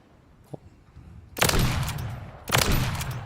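Two loud, close rifle shots from a Lockwood MK2 in Modern Warfare 3, about a second apart, each with a long ringing tail, after a faint click.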